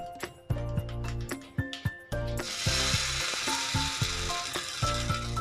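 Hot mustard seed tempering with curry leaves is poured into radish chutney. A few utensil clanks come first, then a sudden loud, steady sizzle that lasts to the end over tonal background music.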